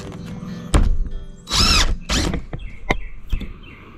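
A power drill drives screws into storage room roofing panels, with two sustained whirring bursts of about half a second each between sharp thunks and clatter, close and fairly loud.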